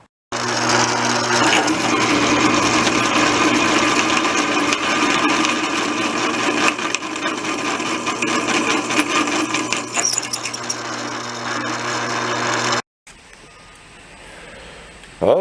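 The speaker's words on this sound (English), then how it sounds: "We used our 36 grit sanding disc, plus we used the DeWalt flapper disc on this to smooth it." A DeWalt flap disc and a 36-grit sanding disc on an angle grinder smooth welds on an anvil, a loud continuous whining grind for about thirteen seconds before cutting off to quieter room noise.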